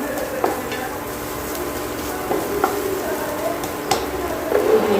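Food being mixed in a hot pan while making potato bhaji for vada pav, soft steady sizzling with a few clinks and scrapes of a spoon against the pan, close and without talk.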